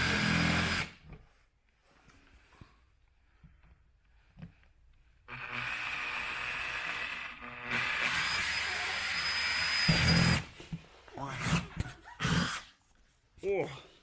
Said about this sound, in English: we've got enough room with the drill, haven't we, to get in there